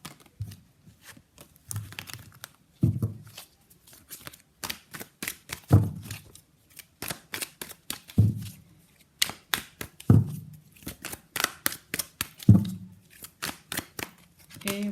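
Tarot cards are shuffled and flicked in short riffling bursts that repeat at uneven intervals, close and crisp, with almost no talking.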